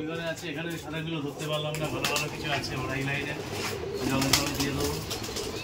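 White pigeons coo in low, repeated rolling calls in a loft full of birds for sale, while someone talks over them throughout.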